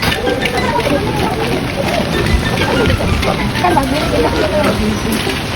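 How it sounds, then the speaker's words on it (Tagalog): Heavy rain pours in a dense, steady hiss with splashing and sloshing water, loud and continuous throughout. "Maulan talaga."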